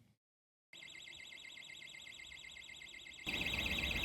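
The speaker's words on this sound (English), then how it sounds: "the alarm's been going off on the building since 5 to 6 this morning" A building alarm at a country park campsite sounds a continuous pulsing electronic tone after a brief silence, growing louder near the end.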